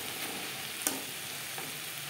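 Red chili powder frying with spices in hot oil, a brief steady close sizzle with one sharp stir clink midway.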